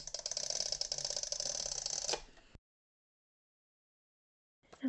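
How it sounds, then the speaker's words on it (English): An Easy Runner Grand tape runner lays down double-sided tape for a handmade card with a steady, loud ratcheting clicking for about two seconds, then silence, with a faint rustle at the end. "This is an Easy Runner Grand tape runner. It's really handy for getting double-sided tape on. And it makes a super satisfying noise."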